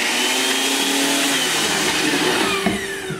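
A Nutri Ninja blender grinds pepper and carrot into a paste, a loud steady motor whir with broadband roar running continuously, dipping slightly near the end.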